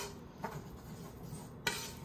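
A spoon stirring flour into melted butter in a cooking pot for crab chowder, soft scraping with two light clinks against the metal, close and quiet.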